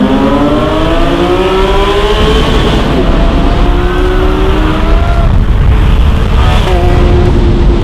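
Porsche 997.2 Turbo and 992 GT3 RS racing side by side, engines loud and close as they accelerate hard, with rising gear-by-gear pitch sweeps and brief dips at shifts, steady wind roar throughout.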